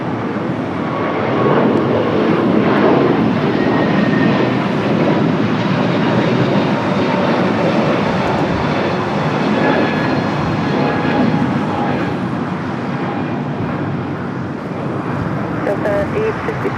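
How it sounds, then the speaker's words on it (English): Delta Airbus A321neo jet taking off at LAX, a loud sustained broadband engine roar filling the whole stretch with little change, from nearby. "the A321 Neo taking off, heading to Orlando"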